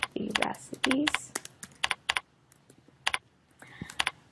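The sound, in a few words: typing on a computer keyboard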